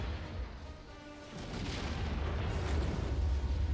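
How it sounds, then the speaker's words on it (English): Missile impacts on a large battleship in Star Wars: Empire at War, a rolling low rumble of distant booms building into a steady heavy barrage. "There's literally nothing better than just watching missiles lay down on a big battleship"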